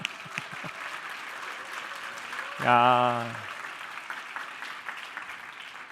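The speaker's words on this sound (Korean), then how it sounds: "자, 우리 박수로 한번 환영합시다." Church young-adult congregation applauds to welcome newcomers who have moved up from the high school group during a Sunday service, with steady clapping throughout and a loud voice shouting briefly in the middle.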